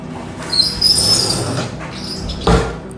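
A mesh-fronted kitchen cabinet door, where a gas cylinder is kept, swings open with a loud squeaky creak and rattle, followed by a second clunk near the end.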